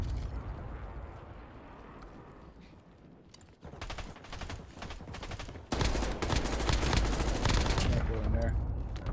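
Rapid gunfire bursts in RuneScape, growing louder and denser toward the end, with voices talking over the shooting.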